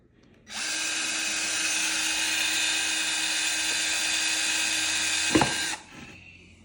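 Electric drill boring a hole, one continuous loud high whine that starts abruptly, holds steady for about five seconds with a brief clunk near the end, then stops.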